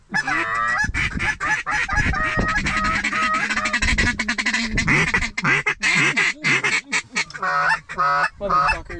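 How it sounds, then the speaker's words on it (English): Geese honk overhead and ducks quack over a loaded field during a Western Washington waterfowl hunt in the rain, a loud, dense chorus of overlapping calls with a few brief voices underneath. "Oh, those geese up top kind of want it."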